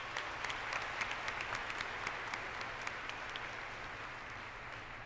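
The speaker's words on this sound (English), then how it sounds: "them a great round of applause." Graduation audience applauding parents and family at a 2016 high school ceremony, a steady, dense wash of clapping from a large crowd filling the hall for several seconds with scattered sharper claps standing out.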